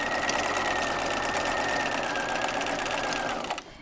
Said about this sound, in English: I'm just going to keep basting all the way around this sleeve.